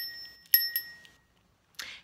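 A small bell on the corded necklace of a teddy bear, strung with wooden beads, gives a few quick bright tinkles near the start, then a softer jingle after a pause, close and light with no talking.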